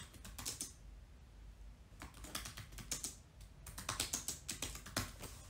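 Quick bursts of computer keyboard typing, close and fairly quiet, come in clusters with short pauses between them while a title is entered.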